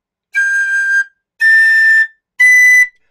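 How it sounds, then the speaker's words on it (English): An Irish tin whistle plays three sustained, bright notes stepping up the scale toward the high register, each held for under a second with short breaths between, clear and close with no talking. "notice as you're going up the whistle that you have to keep blowing a little bit harder with each successive note up the scale"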